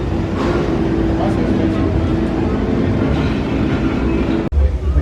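A Six Flags Railroad train rolls past at an amusement park decorated for Holiday in the Park, giving a steady, loud rumble with a low mechanical hum that runs throughout and drops away briefly near the end.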